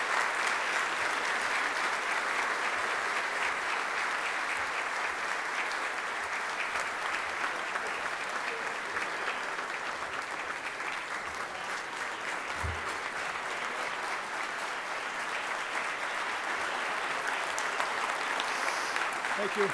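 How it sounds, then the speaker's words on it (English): A seated audience at a public-service event claps for the Illinois House speaker, a long, even wash of applause that holds at a steady level for the full stretch with no speech over it. "Thank you for the nice round of applause."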